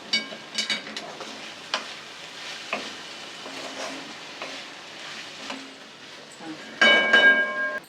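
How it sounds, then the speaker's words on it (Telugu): A spoon stirs okra and roasted peanut fry seasoned with garam masala in a hot pan, soft scraping and light sizzle with a few sharp metallic taps, ending in a louder clatter. "చూడండి, మనం గరం మసాలా వేస్తాం కాబట్టి ఇప్పుడైతే ఒకసారి కలిపేసుకుందాం"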